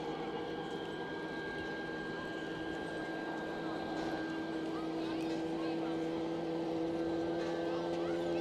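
A steady airliner jet engine whine and hum runs throughout at Manchester Airport, with a rising tone as the number 2 engine spools up; muffled talk sits underneath.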